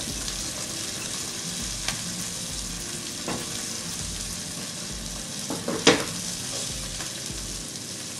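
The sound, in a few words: skate fish pan-searing in a frying pan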